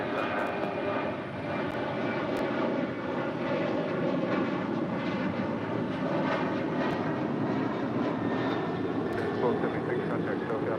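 A Southwest airliner roars down runway 25 right at LAX on takeoff, its engines a loud, sustained rumble that holds steady throughout and stands alone without talk.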